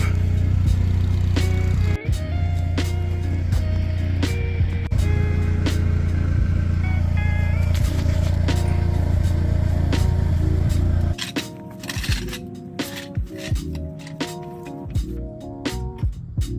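A Polaris Slingshot engine idles steadily to warm its oil, a loud, constant low rumble for most of the stretch before it cuts off, leaving scattered clanks and rattles.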